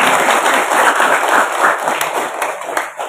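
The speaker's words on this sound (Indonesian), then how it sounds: "Tepuk tangan dulu." Audience applause at an Indonesian classroom gathering, dense continuous clapping from a crowd lasting throughout, fairly loud and close.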